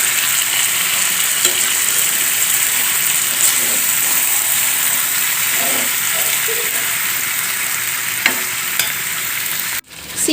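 Chicken pieces frying in hot oil in a home kitchen, a loud continuous sizzle with occasional stirring scrapes, close and steady until an abrupt clatter near the end, no voices.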